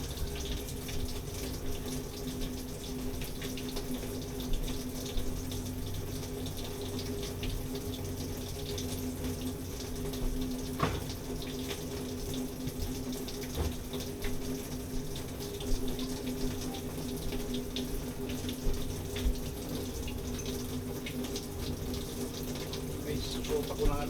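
A kitchen sink tap runs continuously while fish is cleaned, a steady faint hiss of flowing water with occasional clinks and splashes, and someone speaks at times.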